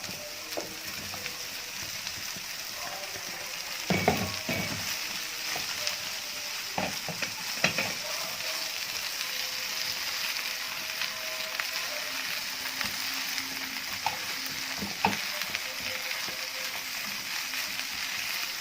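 Eggplant frying in a pan, a steady close sizzle broken by occasional clinks and scrapes as it is stirred.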